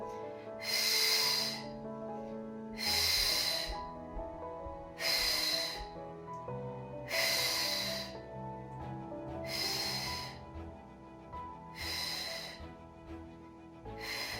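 Five slow, loud breaths, each a broad airy rush, repeat at even intervals over soft background music during a pregnancy Pilates exercise. They follow an exhale-inhale rhythm with no talk.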